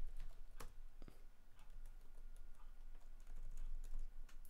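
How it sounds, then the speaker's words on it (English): Fairly faint, irregular clicking of keys on a computer keyboard, typed in short bursts with a few louder taps, no voice over it. "Alright, let's type it up."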